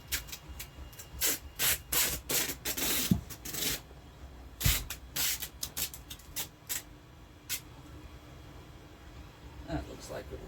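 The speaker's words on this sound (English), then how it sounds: "now I'm just going to take a piece of tape and go the length of this PVC pipe" Tape being pulled and pressed along the length of a PVC pipe, a series of short rubbing and crinkling bursts at close range, with a voice talking over parts of it.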